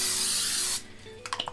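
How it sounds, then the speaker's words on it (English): Cooking spray hisses steadily onto a large baking dish for a French toast casserole with apples, a close, continuous spray lasting under a second before stopping, then a few light clicks and clatters. "So we have a nice large baking dish here that we're going to go ahead and just give a little spray to with our cooking spray."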